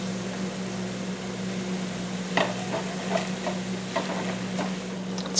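A spoon scrapes and stirs chicken and onions in a skillet over steady sizzling, with a low hum underneath and a few distinct scrapes and clinks.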